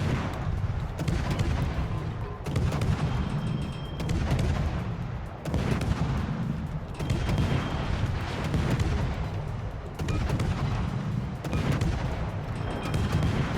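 Warship guns in a World of Warships naval battle, heavy booming salvos rolling one after another over a dense, constant rumble of engine and sea noise, loud and close throughout.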